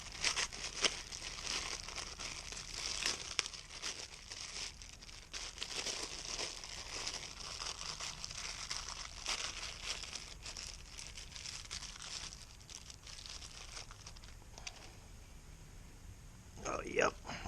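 Hands rummaging through a plastic bag of new bolts during Toyota MR2 AW11 engine mount work, a steady close crinkling and rustling of plastic with faint metallic shifts, continuous for many seconds with a louder crinkle near the end.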